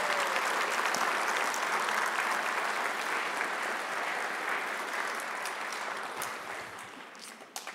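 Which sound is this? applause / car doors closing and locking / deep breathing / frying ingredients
applause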